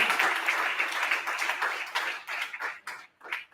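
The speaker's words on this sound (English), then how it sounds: "Can we give them a round of applause?" Audience applause at a property industry roadshow event, a dense wash of clapping that stays steady at first and then thins into scattered, fading claps.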